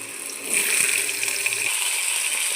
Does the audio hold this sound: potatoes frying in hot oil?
yes